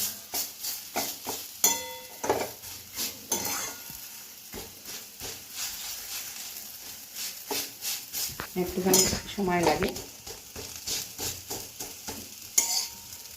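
Fried lentil cakes are broken up in a frying pan, with repeated sharp metal utensil clinks and scrapes over a soft sizzle, while a voice speaks briefly.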